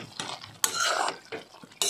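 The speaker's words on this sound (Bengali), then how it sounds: "এবার নাড়াই নেওয়া হইব" Shrimp, ridge gourd and potato curry being stirred in a pot, with a few brief clattering scrapes and metallic knocks of the utensil, close by and moderately loud, separated by quieter gaps.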